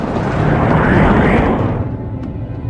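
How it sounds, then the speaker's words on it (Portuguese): A meteor exploding high in the atmosphere produces a sonic boom: a loud, deep, broadband rumbling roar that holds for about a second and a half, then fades and thins into a softer low rumble. "Essa explosão pareceu uma explosão sônica."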